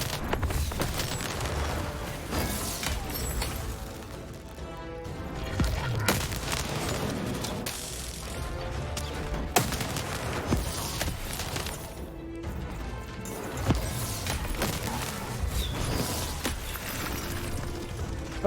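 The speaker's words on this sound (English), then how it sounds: "I guess I picked a good time to try the cannon when they're all coming at me" Cannon fire and battle noise from the video game Lost in Random as enemies swarm in, a dense, continuous barrage of booms and crashes layered over game music, with no talk.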